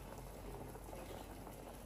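Milk boiling down in a pan while being reduced for palkova bubbles and pops in a dense, steady simmer, close but quiet, with no voices.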